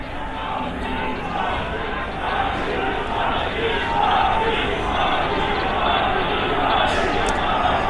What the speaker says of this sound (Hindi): मोदी के नारे भी लग रहे हैं